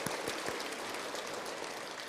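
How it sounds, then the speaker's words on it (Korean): A church congregation claps to welcome a newly arrived couple during a Sunday service, a faint, even patter of many hands, distant and continuous with no talking over it. "우리 박수로 환영하고 축복하도록 하겠습니다."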